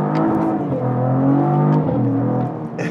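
A 2022 Cadillac CT4-V Blackwing accelerates hard from inside the cabin, a loud, steady engine roar with harmonics climbing smoothly through the gears for about three seconds, with no talking.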